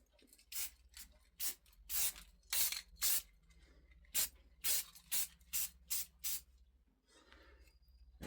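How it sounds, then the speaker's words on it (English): Short bursts of yellow spray paint misting from a can onto a shop sign, about a dozen quick puffs in an uneven rhythm, close and crisp with quiet gaps between. "add a little yellow down here at the bottom"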